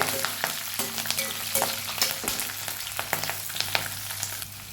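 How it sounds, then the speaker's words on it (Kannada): Garlic frying in a pan gives a continuous, close crackling sizzle dotted with sharp pops and light clicks of stirring. No voices are heard. "ಬೆಳ್ಳುಳ್ಳಿ ಸ್ವಲ್ಪ ಹಸಿ ವಾಸನೆ ಹೋಗಲವರೆಗೆ ನಾವು ಫ್ರೈ ಮಾಡುವ"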